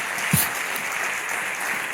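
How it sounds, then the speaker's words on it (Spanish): A church congregation claps in a steady wash of applause at a moderate level, a single low thump near the start. "Dar un aplauso a Cristo si puedes, por favor."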